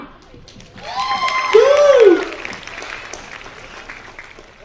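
An audience at an NTR 100 Years celebration in Perth, Australia claps steadily, and a loud voice rises briefly over the applause partway through.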